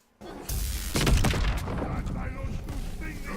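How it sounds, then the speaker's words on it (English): A cannon fires in the video game Call of Duty: The Darkest Shore, a sudden loud boom followed by a dense, rumbling roar of gunfire-like noise that sustains for a few seconds. "you can now shoot your cannon"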